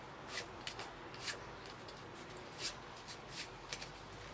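Playing cards being shuffled in quick riffling bursts, several short crisp flurries spread across a steady faint background hiss.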